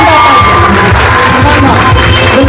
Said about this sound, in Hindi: शानदार तालियां।